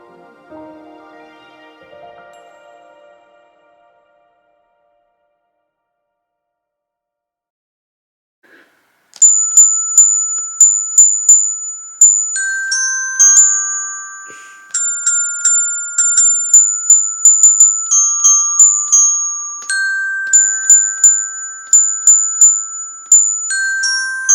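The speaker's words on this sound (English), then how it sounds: "practicing playing Jingle Bells on the xylophone" A child plays Jingle Bells on a xylophone after a quiet pause, striking a run of bright, ringing notes in an uneven, halting rhythm, close and clear.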